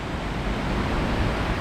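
Water pours over Lanterman's Falls in Mill Creek Park, Youngstown, Ohio, with the waterfall partly frozen in winter. It makes a steady, dense roar with no breaks and no voices.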